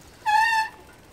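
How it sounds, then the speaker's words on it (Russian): Car brakes squeal on a forest road near the Altes Lager airfield in Germany, one short, clear high-pitched whine lasting about half a second over quiet road noise. "Ух, тормоза."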